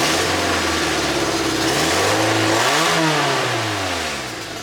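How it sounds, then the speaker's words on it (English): A Toyota MR2 engine with an exhaust leak revs up and settles back, a loud raspy roar swelling and falling a couple of times before dropping toward idle. "Let's give it a little rev"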